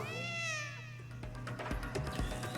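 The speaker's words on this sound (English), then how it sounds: "there you are, you silly cat" A cat meows in the video game Travis Strikes Again, a couple of clear, high, drawn-out mewing calls near the start, followed by game music and effects.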